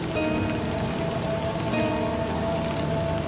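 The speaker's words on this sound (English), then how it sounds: "Raindrops splatter on the paper, leaving small wet stains." Steady rain falls in the Livber: Smoke and Mirrors video game, a dense, even patter of drops on a surface that continues unbroken and fairly loud throughout, with no speech.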